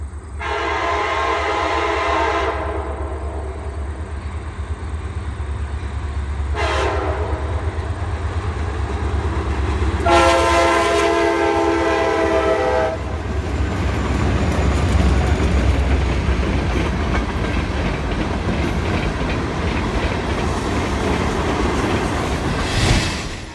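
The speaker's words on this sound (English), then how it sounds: "An Ayer to Portland train rolls through a beautiful setting in Exeter," An Ayer to Portland freight train rolls through Exeter, New Hampshire, its horn sounding in several long blasts over a steady, loud rumble and clatter of wagons that continues to the end.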